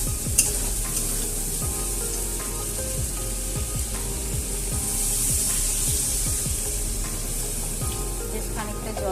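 A spoon stirs potato curry with papad in a pan, giving steady close scraping and shuffling strokes over a soft continuous sizzle, with no talking.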